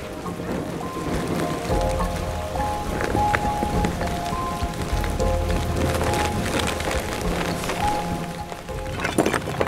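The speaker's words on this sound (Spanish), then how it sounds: "El viento y la lluvia cada vez eran más fuertes" Heavy rain and wind pour down during a big-game hunt (montería) near Abenójar, Spain. A dense, steady patter of drops continues over a low rumbling roar for the whole stretch, with no voices.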